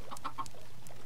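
Video game chicken clucking in a few short, separate bursts, fairly quiet over a faint low hum, with no voices.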